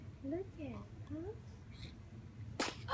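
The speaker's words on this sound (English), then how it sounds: "You sneeze like your aunt." A baby sneezes once, a sharp broadband burst near the end, after soft cooing vocal sounds from the infant and faint background murmur.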